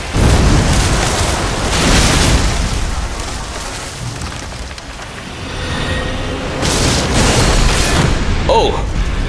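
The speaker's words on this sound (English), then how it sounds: "he's gonna do a little explosion thing afterwards" Booming explosion attack from a boss fight in the Elden Ring DLC, heavy low rumbling bursts through most of the clip, loud and close, with a brighter impact near the end.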